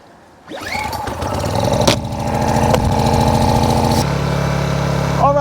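An AIVolt 1600W super quiet inverter generator cranks and catches after a brief quiet moment, then settles into a steady, close, buzzing engine run that shifts to a lower idle near the end.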